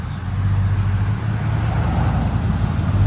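2017 Ford F250 pickup with a 6.2-liter V8 and a Flowmaster Flow FX exhaust with muffler and resonator deleted and a 5-inch tip, giving a steady, loud, deep rumble throughout, with no talking.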